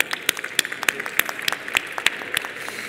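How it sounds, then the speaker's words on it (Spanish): Scattered, distinct handclaps from a modest audience at a public procurement panel welcome a panelist, arriving close and irregular over a few seconds. "a quien le damos un fuerte aplauso"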